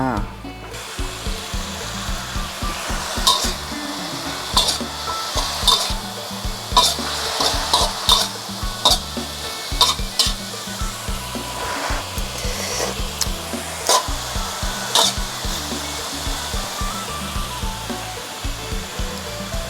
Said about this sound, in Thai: คนส่วนผสมให้เข้ากันนะคะ รอเดือดค่ะ